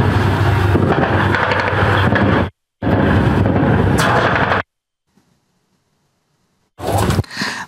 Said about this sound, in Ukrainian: Це чітко видно вибух